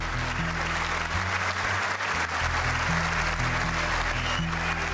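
Audience applause for Medal of Honor recipients at a political address, a steady dense wash of clapping lasting throughout, with low musical or crowd tones underneath.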